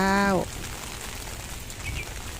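Heavy early-morning rain pours steadily onto basil and other garden plants under an overcast sky, making a dense, continuous hiss that follows a brief voice at the start.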